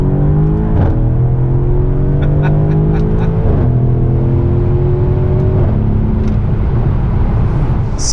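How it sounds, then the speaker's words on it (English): A Mercedes GLC 63 AMG SUV accelerates through several gear changes, its engine and exhaust tone climbing in pitch, dropping at each shift and climbing again in a close, continuous, loud rising whine and growl. "Yeah, you hear the exhaust tone a whole lot more."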